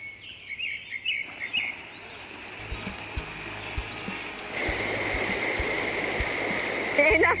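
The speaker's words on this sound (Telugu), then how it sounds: "గలగల పారే నీటి సవడి అండ్ పక్షుల శబ్దాలు" Stream water rushes near a forest waterfall on a trek, a steady broadband wash that swells louder about halfway through, with bright bird calls chirping over it early on.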